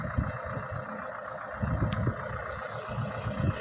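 A Panzer double-rotor tillage machine with a rear roller runs raised off the ground, giving a steady mid-distance mechanical drone with a low rumbling pulse and no voices.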